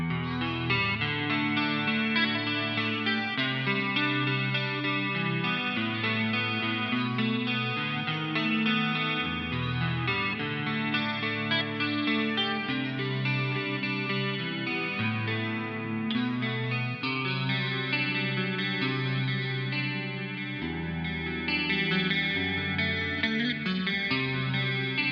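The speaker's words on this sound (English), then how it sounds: "demonstrating the neck pickup, maybe the in-between as well, with this clean setting that has chorus and reverb." Harley Benton TE-62 electric guitar played through the neck and in-between pickups on a clean setting with chorus and reverb, a continuous shimmering melodic passage with no talking.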